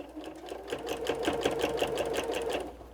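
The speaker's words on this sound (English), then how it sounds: "I'm gonna stitch along" A sewing machine stitches along a quilt seam on a quilted cookie rug, a close rapid rhythmic run of stitches that starts, steadies for a couple of seconds, and slows to a stop.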